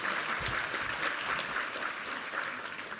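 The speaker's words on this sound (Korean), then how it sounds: "우리 하나님께 감사와 영광의 박수 올려드리겠습니다" Church congregation applauding after a sermon's hallelujah, a steady dense wash of many hands clapping in a large room, sustained and even for the whole stretch with no voices over it.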